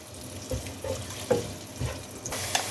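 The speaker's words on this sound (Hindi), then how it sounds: "प्याज को फ्राई कर लें इसके अंदर।" Sliced onion frying in hot oil for beef pulao, a soft, close sizzle with a few brief clinks and stirring bumps over a short stretch.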